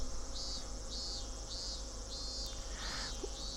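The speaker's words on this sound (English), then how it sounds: "Lethargy, induced by the voices of the cicadas." Cicadas chirp in the video game Higurashi When They Cry: a steady insect drone with regular high-pitched pulses repeating roughly every half second over a constant low hum, with no talking.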